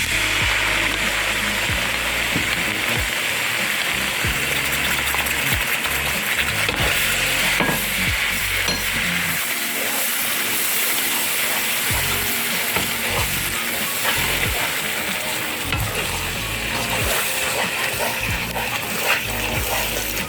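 Spices with yogurt and tomato puree fry in a pan for chana masala, giving a loud, continuous sizzle with occasional stirring scrapes throughout.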